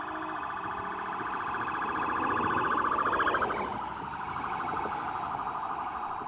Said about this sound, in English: a police siren has a higher pitched sound when it's moving towards you than it does when it's moving away from you